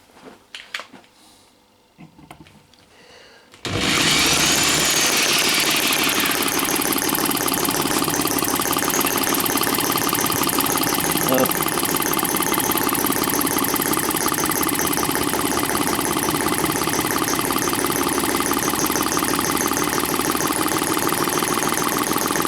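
A Microcosm M12 model engine starts after a few seconds of quiet handling noise. It then runs at a steady, loud, buzzing drone with a mechanical rattle until the end.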